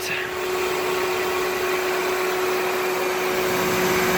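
A 2003 Toyota Corolla engine runs at a steady idle with a fresh accessory drive belt, giving a continuous even hum and a thin constant whine, close by with no talking.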